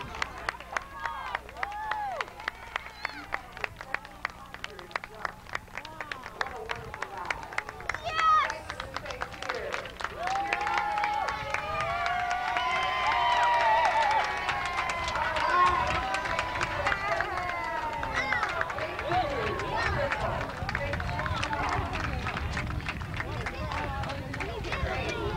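A crowd at an airfair claps and cheers as a skydiver comes down to land, with scattered claps early building into a broad wash of applause and voices, while someone talks over it nearby.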